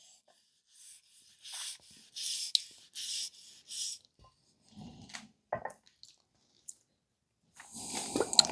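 Oil is rubbed into walnut wood by hand in short, soft scrubbing bursts, several quick strokes then pauses, close and fairly faint with no talk, ending in a longer rubbing passage.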